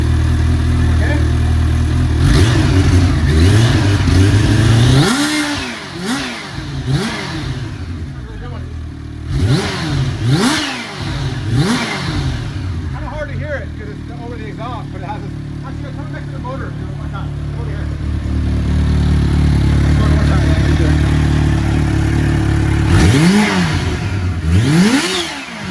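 A Kawasaki Ninja H2 motorcycle engine idles and revs repeatedly, sharp throttle blips rising and falling over a steady idle, loud and close, with people talking over it at times.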